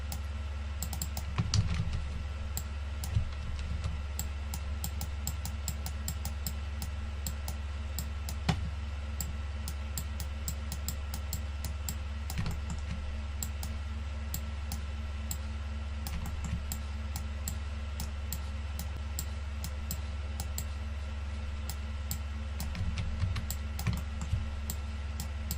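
Computer keyboard typing and mouse clicks during 3ds Max modeling work, soft irregular taps scattered over a steady low electrical hum, close and faint.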